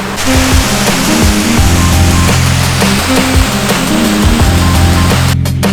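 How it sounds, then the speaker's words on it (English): Water roars steadily and loudly at Protest Falls near Byron Bay, a close, unbroken rush of falling water with no pauses. "we just came back from the Protest Falls, and these waterfalls are absolutely majestic"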